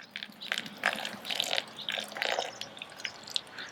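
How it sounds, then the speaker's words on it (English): Water trickles and splashes from a small succulent watering can onto the soil of a freshly transplanted tomato plant, in uneven bursts of dripping and gurgling close by, with no talk. "I'm gonna water it again"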